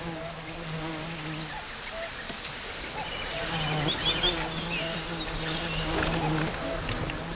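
Honeybees swarm around a beehive set near a cliff in the DMZ region of Korea, a dense continuous buzz with steady drone tones and passing whines of individual bees close by.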